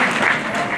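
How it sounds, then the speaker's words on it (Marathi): A short burst of applause from a mostly female audience at a Home Minister women's event hosted by Karad Urban Bazar, loud and steady clapping. "आमच्यासाठी सगळ्यांनी खूप टाळ्या वाजवा."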